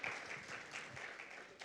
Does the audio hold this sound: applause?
yes